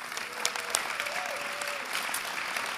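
Steady applause from a large audience at an athletics awards evening, dense continuous clapping with a few sharper claps standing out and a faint tonal whistle or cheer in the middle.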